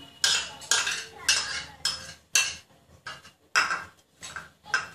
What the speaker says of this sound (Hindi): इन सबको अच्छे से मिक्स कर लेंगे।